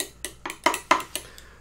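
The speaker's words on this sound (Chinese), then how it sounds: "但是这个好难搅拌哦，一直搅到现在" A spoon clinks repeatedly against a cup while stirring vegan coffee made from convenience-store ingredients, six or seven bright close taps at an uneven quick rhythm.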